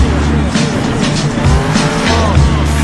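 A monster truck's engine revs hard at full throttle during a freestyle run at a Steel Titans Sports League show in Indianapolis, a loud, continuous roar with rising and falling pulses and some tire noise.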